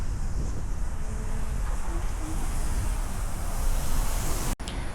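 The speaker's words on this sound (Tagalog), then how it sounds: "Malakas yung hangin." Strong wind roars steadily across the microphone in a loud, dense rush, broken by a brief dropout near the end, outdoors near Taipei Zoo.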